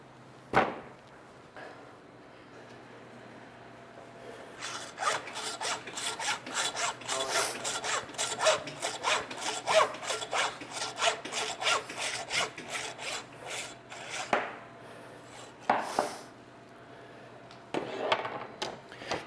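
A butcher's saw cuts through a pork ham hock during hog fabrication, with a long run of quick, rhythmic rasping strokes, close and moderately loud, ending in a few separate final strokes.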